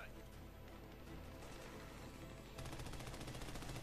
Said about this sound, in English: Who the fuck's shooting me?